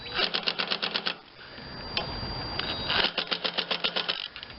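Bolts on an Ariens Briggs and Stratton 21M314 16.50 engine being tightened during a head gasket replacement, heard as two bursts of rapid ratchet clicks, close and crisp, separated by a short pause of handling noise.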